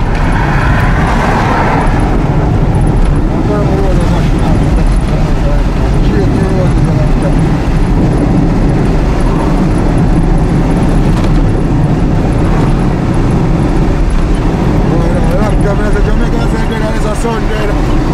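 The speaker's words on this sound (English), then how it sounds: "And that's the traffic." Dense street traffic in Kingston rumbles continuously at close range, with passing vehicles, engine noise and background voices blending throughout.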